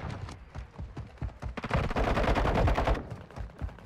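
Rapid pistol gunfire in the Warzone 2 video game, a burst of sharp shots building into a dense, loud volley mid-clip before trailing off into scattered single shots, with no talk.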